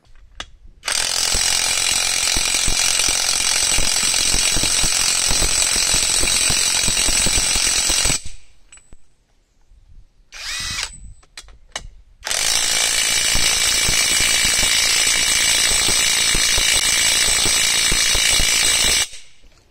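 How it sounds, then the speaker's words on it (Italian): A TOPSHAK TS-PW2 brushless impact wrench, rated at 330 Nm, hammers on a homemade test rig. It gives two long, loud bursts of dense rattling impacts with a brief quiet gap and faint clicks between them. No one speaks. "andiamo a mettere alla prova questo avvitatore con una struttura che ho realizzato per testare avvitatori a percussione"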